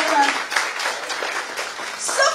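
A comedy show audience breaks into continuous applause, a steady wash of clapping with a few sharper claps poking through, moderately loud and filling the room.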